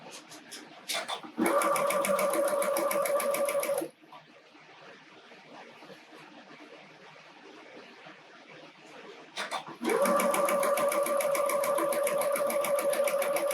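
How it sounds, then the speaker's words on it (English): A sewing machine stitches quilt fabric pieces for a snowman quilt in two fast, steady whirring bursts, with a quieter pause of handling noise between them; close and clear. "And we're gonna sew those together."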